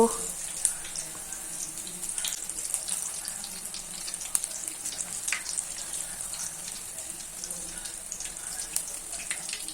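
Fenugreek and spinach fulvada fritters fry in hot oil with a faint, steady sizzle. Scattered crisp pops and crackles run through it the whole time.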